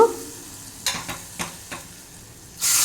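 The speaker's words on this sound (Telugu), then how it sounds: "ఇప్పుడు దీంట్లోకి నేను తాలింపు వేసుకుంటున్నా" A few light clicks and taps, then a sudden loud burst of sizzling as tempering spices hit hot oil, hissing steadily to the end.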